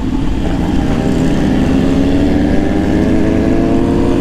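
A steady, loud engine drone from motorcycles on a busy road during an early Sunday morning ride, with a continuous rising tone as a bike accelerates close by and no pauses.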